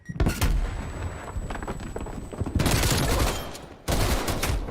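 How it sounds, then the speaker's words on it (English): In a first-person shooter game, dense bursts of rapid gunfire crackle loudly with a brief high ringing tone between volleys, fitting a flashbang going off amid shooting. "Flashbang going out."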